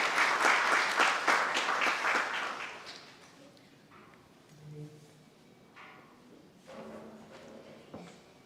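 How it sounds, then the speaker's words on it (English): Audience applause at a medical college graduation ceremony, a dense burst of clapping for about three seconds that quickly fades, followed by scattered rustling and faint voices. "A round of applause, please."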